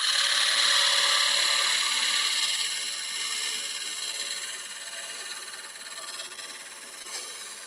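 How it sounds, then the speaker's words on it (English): Wood being turned on a lathe with a fine detail spindle gouge while making a box, a steady high-pitched shaving hiss that runs continuously and eases slightly softer toward the end, with no talking. "I'm going to use my fine spindle gouge or detail spindle gouge."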